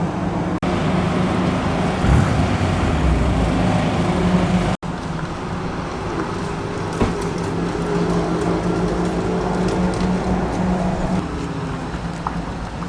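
A non-injected twin-cam four-cylinder engine in a small classic racing car at a circuit testing day, a steady loud drone that holds fairly even throughout, close by with no talking.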